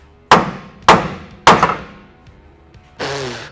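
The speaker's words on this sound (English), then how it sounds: "we're gonna give these a smack with a hammer and hopefully they just pop out" Several sharp hammer blows ring out in close succession against the tie rod ends of a Ram 2500/3500 truck, each loud metallic strike decaying quickly, followed by a duller thud.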